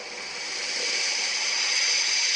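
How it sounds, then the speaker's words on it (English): A blender running in a room, a steady loud whirring hiss that holds constant throughout with no pauses. "the blender sound is still there because it is in the room"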